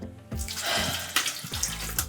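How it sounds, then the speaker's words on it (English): Punch pours in a steady liquid stream from a container, a close, continuous splashing and trickling that runs for a couple of seconds with small gurgles. "I'm pouring it right on the heel."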